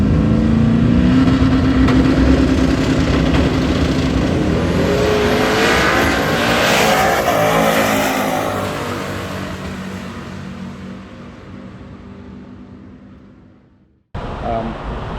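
Street car accelerating hard at Rockingham drag strip on a hot day with a greasy track, a loud roaring engine close by that climbs in pitch, then fades as it pulls away down the strip before a cut.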